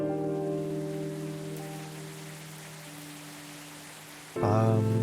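Steady rain falls at night in the video game Coffee Talk, a soft continuous patter under sustained musical tones, with a louder chiming chord entering near the end.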